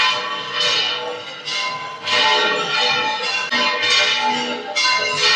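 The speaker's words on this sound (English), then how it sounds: "I can hear bells ringing from every corner, echoing from the city, and it's probably coming from the Basilica" Church bells ring across Alicante, likely from the Basilica, a continuous bright clangor echoing through the city with layered strikes that swell and overlap throughout.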